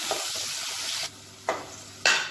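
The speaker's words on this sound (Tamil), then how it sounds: "இது எல்லாத்தையும் நல்லா வதக்கிக்கலாம்." Garlic and small shallots sautéing in oil in a pan for a Tamil lunch box dish, a steady close sizzle and hiss broken by a few louder bursts of stirring or spattering.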